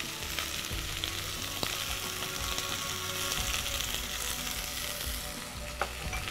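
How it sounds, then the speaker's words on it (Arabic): Onion and garlic fry in a pan, a steady close sizzle with stirring scrapes and a few sharp clicks, no talking. "رح ارمي البصل، اعطيه بصل منيح"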